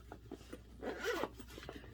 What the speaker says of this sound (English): You just zip it closed and you have everything right there.